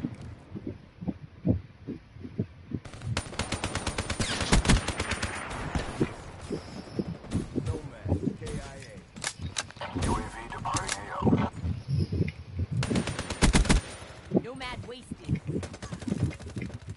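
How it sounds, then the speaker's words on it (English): Vesper gunfire in a video game, bursts of rapid automatic fire in quick rattling strings across the clip, mixed with game sounds and a voice speaking over it. "What did you just shoot me with? The Vesper from that far like that?"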